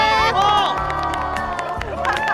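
A group of voices cheers and whoops together welcoming someone, loud and close, with excited shouts overlapping for a couple of seconds.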